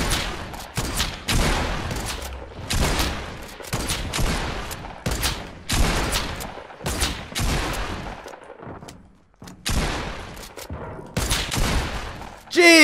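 Rapid bursts of gunfire in a Fortnite match, loud repeated shots in close succession with brief gaps, sniper fire mixed into the barrage, and a voice briefly audible underneath.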